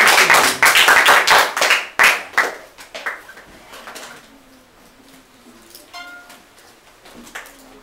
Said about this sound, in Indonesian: mari kita beri tepuk tangan bagi Raja kita